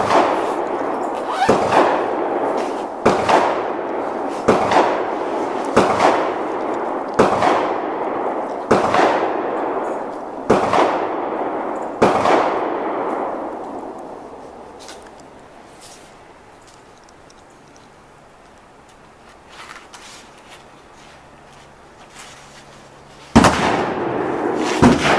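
An old Ruger gun fires about ten sharp shots at a steady outdoor pace, followed by a long quiet stretch and one final loud shot near the end.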